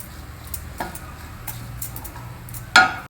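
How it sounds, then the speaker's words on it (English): Washed, ground poha is stirred in a pan over a low flame, giving soft scraping ticks and a faint sizzle, with a sharper spoon clink against the pan near the end. "Over a low flame, just stir it well."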